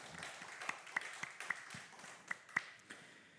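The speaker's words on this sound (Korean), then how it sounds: "우리 하나님께 영광의 박수 올려드립시다." Light, scattered clapping from a small church congregation at a Wednesday evening service, a few distinct claps rising from a quiet room, faint and sparse.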